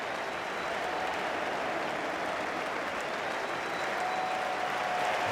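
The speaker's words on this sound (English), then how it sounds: "There's the applause for it." Cricket crowd at an Ashes Test match between Australia and England applauding a batsman reaching 150; sustained, distant stadium clapping forms an even, dense wash of sound with no voices on top.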